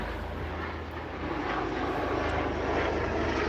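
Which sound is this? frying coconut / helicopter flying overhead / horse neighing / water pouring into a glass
helicopter flying overhead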